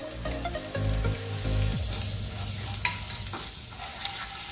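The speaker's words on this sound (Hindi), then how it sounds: "थोड़ा सा सौते करके ये मिर्ची और लहसुन जो बारीक काट के रखा है वो भी इसमें ऐड कर देंगे" Finely chopped chili and garlic sizzle as they are stirred into hot oil with asafoetida in a pan while making gobi masala, a steady frying hiss broken by scraping stirs, close and alone without speech.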